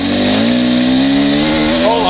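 Beta 300RR two-stroke dirt bike engine runs loud and steady close by, with a buzzing tone that climbs slightly as it holds on single-track riding.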